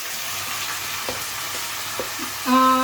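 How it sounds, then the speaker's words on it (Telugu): Spinach fries in hot tempering oil with a continuous sizzle, a few soft clicks from a utensil, and a short tonal beep at the end. "ఇప్పుడైతే పాలకూర ఫ్రై చేయడానికి తాలింపు అయితే వేస్తున్నాను"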